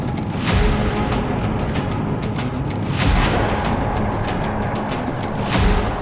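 Loud booming blasts from an explosion on open ground in Saratov, a sustained broadband roar with three heavier surges at steady intervals, sounding like a fire raging after the blast.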